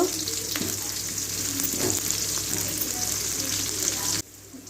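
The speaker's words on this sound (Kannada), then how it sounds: "ಈರುಳ್ಳಿ ಚೆನ್ನಾಗಿ ಎಣ್ಣೆಲಿ ಬೇಯಬೇಕು" Onions frying in oil in a pan give a steady, close sizzle with occasional stirring scrapes, continuing for about four seconds before dropping off abruptly.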